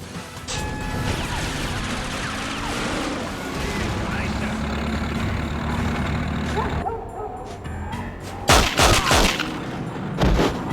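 Dense bursts of gunfire fill a first-person shooting stage of a GameCube video game, loud and continuous with crashes and sharp louder shots near the end, while a voice talks over it.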